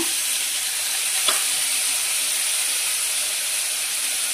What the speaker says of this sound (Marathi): आलं जरा हे करून घेतलं ना की कांदा टाकते बारीक चिरलेला. हा कांदा टाकला